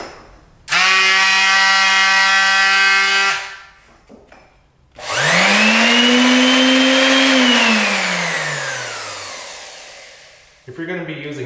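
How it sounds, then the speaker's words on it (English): Two power sanders run one after the other, a Ryobi detail sander and a standard 4-inch palm sander, each a loud close whine that starts abruptly, holds steady, then winds down in pitch. "here's the noise level difference between the Ryobi detail sander and a standard 4-inch palm sander"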